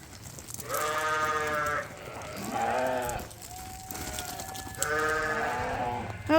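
Several sheep bleat on a drought-stricken farm, giving three or four distinct wavering calls spaced a few seconds apart, fairly close, over a low background hum.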